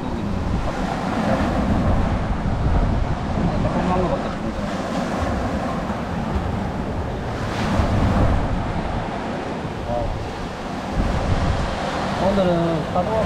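Continuous roar of surf rolling in and breaking, loud and close, with gusty wind buffeting the microphone throughout.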